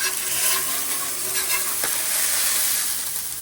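Food cooking on a new Blackstone griddle gives a loud, dense, continuous sizzle that stays steady throughout, close up, with one faint tap partway through and no speech.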